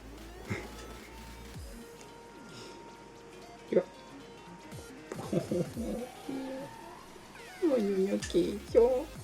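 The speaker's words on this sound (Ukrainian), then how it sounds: "під кінець я показав свою кішку" Pet cat meowing close by, short soft meows at first building to louder, drawn-out cries toward the end, over a quiet room with a person talking.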